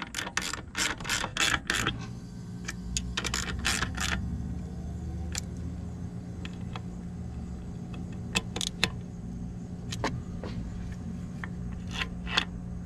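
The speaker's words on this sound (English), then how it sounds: "Neat little servo motor, I guess, that does that." A small servo motor in a Jeep Wrangler throttle body moves with quiet mechanical clicks, whirs and ratcheting ticks, several quick bursts at first and then sparse clicks over a low steady hum.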